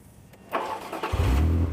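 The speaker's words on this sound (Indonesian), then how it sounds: "Kamu seharusnya bisa menyalakan mobilnya. Injak rem di depan, masukkan kunci, lalu putar saja." A Lamborghini bought cheaply at auction cranks briefly then fires up, settling into a loud, close, deep idle right after the key turn.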